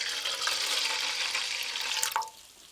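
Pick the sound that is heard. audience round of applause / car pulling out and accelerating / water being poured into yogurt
water being poured into yogurt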